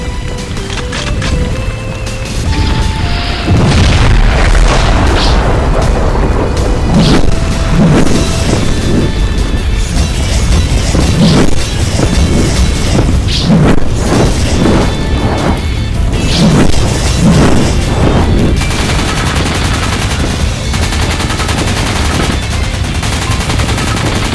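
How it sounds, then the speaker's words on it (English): Grenade explosions in an animated sci-fi battle: loud, dense blasts and crashing bursts follow one another rapidly with constant rattling gunfire for the whole stretch, with no pause. "Zex, Tirade, arm your grenades."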